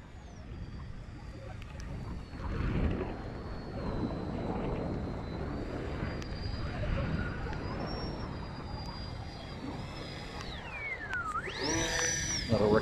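An annular-wing model aircraft in gentle test flight, its motor whining steadily at a distance over outdoor wind noise, with a rising and falling pitch sweep near the end as it passes or throttles.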